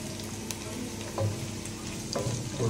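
Onions frying and being stirred in a pan for red snapper fish curry: a continuous crackling sizzle with occasional scraping strokes of the spoon, fairly close.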